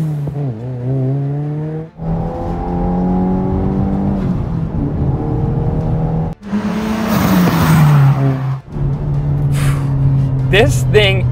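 A tuned 2022 Subaru WRX with a Clark Turner tune accelerating hard at full throttle, loud engine revs climbing through gears with brief shift pauses, heard from inside the car.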